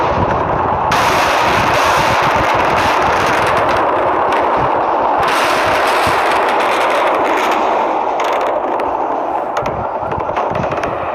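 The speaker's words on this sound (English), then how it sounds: "that was the so-called supposed video of the bombing" Recording of a bombing: a harsh, loud, dense wall of noise with crackling bursts sustained throughout, like explosions and heavy gunfire captured on a distorted recording, with no clear speech.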